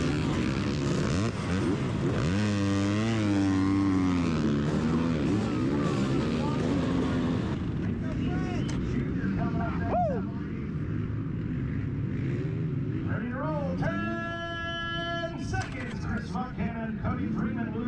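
Several 250cc dirt bike engines revving and roaring together at the start of a GNCC off-road race, loud and continuous with rising and falling pitch sweeps, with a voice speaking over the engine noise.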